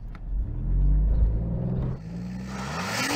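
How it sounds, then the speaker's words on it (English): An Alfa Romeo Giulia Quadrifoglio GTAm launching and accelerating, its engine rumbling loudly and rising in pitch through a gear change, close and steady with no talk. "what will this Alfa Romeo Giulia Quadrifoglio GTAm do from 0 to 60, 0 to 100, and 100 to 0?"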